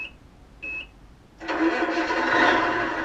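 A GT Power light sound kit on a Tamiya Cascadia RC truck plays a couple of short electronic beeps, then a simulated truck engine starts and runs in a steady, loud idle rumble.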